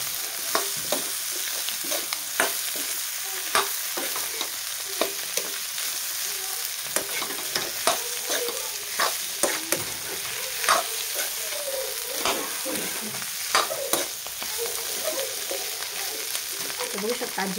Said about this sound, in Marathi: आता छान मिक्स करून घेऊया